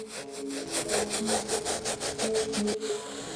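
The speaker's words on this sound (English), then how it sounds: "I'm gonna go ahead and take our stiff bristle brush" A stiff bristle brush scrubs a suede sneaker up close in quick, rhythmic back-and-forth strokes, steady and fairly loud with no talking.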